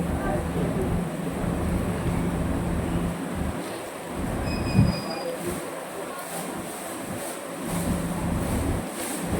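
Steady low rumble of a nearly empty passenger train rolling along rails near Kasimbazar, Murshidabad, with rhythmic clatter and faint hissing noise throughout, fairly loud and close.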